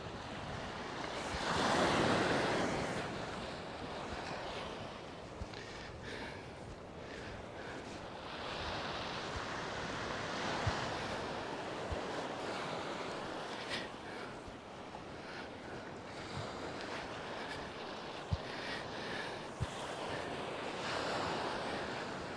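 Surf breaking on Praia de Lourido at Muxía on Galicia's Costa da Morte, a steady broad wash of waves with wind buffeting the microphone throughout, a louder surge near the start.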